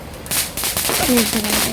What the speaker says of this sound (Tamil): பட்டாசு எடுத்துக்கலாம் கையிலேயே